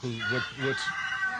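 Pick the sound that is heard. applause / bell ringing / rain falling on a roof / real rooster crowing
real rooster crowing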